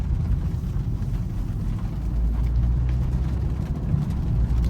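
Steady low road and tire rumble heard from inside the cabin of a 2019 BMW 330i while driving, continuous and moderately quiet with no talk.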